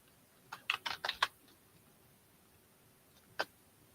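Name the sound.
typing on a computer keyboard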